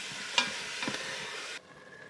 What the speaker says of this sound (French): Donc, je vais faire cuire la viande hachée.